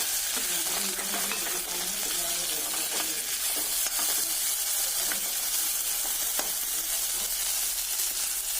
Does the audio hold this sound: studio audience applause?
no